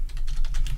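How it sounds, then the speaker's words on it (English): Rapid clicks from a computer keyboard being typed on, about seven quick keystrokes in an even rhythm, close and clear, with no talk. "I'm just typing something to Hengist."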